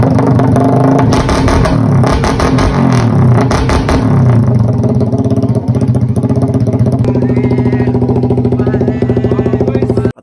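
A Yamaha Raider motorcycle fitted with a super open KOU exhaust pipe and rapid backfire tuning, engine running loud and close throughout with steady revving and crackling, rough clatter in the first few seconds, no talk.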